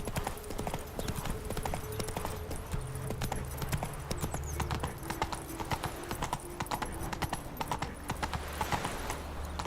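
A horse in the Witcher 3 video game gallops at a steady pace, a rapid continuous rhythm of hoofbeats close by, with faint background ambience.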